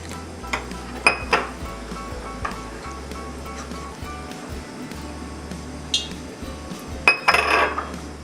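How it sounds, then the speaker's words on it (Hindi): Gobi manchurian batter being mixed in a bowl: a spoon clinks and scrapes against the bowl in scattered sharp taps, with a steady low hum underneath. "अब इसका हम एक घोल बना लेंगे।"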